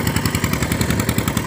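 A 1998 Eicher 241 NC tractor engine chugs steadily nearby, a rapid rhythmic clatter of a small diesel under load while hauling soil, with no speech.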